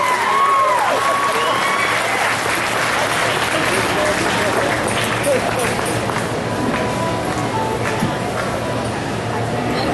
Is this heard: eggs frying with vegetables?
no